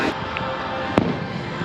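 Fireworks go off at a theme park, with a single sharp distant bang rising over a steady wash of crowd and outdoor ambience.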